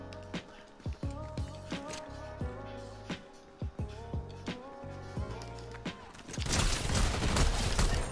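Gunfire in Fortnite Chapter 5: a string of sharp, separate shots over game music, ending in a loud, dense burst of noisy firing.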